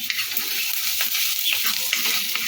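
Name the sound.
stirring garlic and green chili frying in butter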